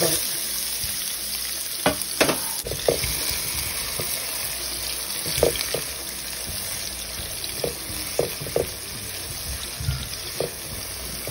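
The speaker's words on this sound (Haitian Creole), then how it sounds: "On vide l'huile dans la pelle" Vegetables and egg fry in oil in a pan, giving a continuous hiss of sizzling broken by frequent sharp clicks and scrapes of stirring, heard close with no talk.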